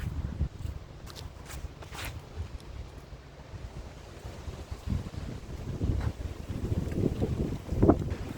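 Gusty wind buffets the microphone on an open disc golf course, a steady low rumble that swells and surges in several stronger bursts toward the end, with no voices.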